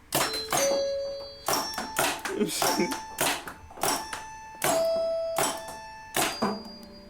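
Metal xylophone bars struck one at a time by paintball gun shots, forming a halting melody of about eight sharp pops, each leaving a ringing pitched tone that decays under the next hit.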